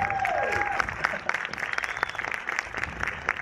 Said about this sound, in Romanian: Așa că vreau să-l aplaudați pe Max!